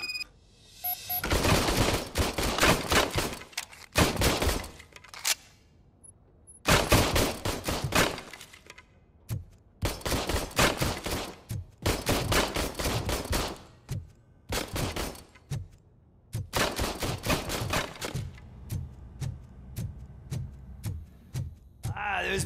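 Bursts of rapid gunfire from an old service gun in Robocop: Rogue City, fired in several sustained volleys separated by short pauses, loud and close, with faint voices in between.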